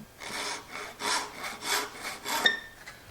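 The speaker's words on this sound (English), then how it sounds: "Drop it into your miter gauge or whatever you want to use and saw you off a little tiny plug." A hand saw cuts a small wooden dowel plug in about five rasping back-and-forth strokes, close and crisp, with no talk.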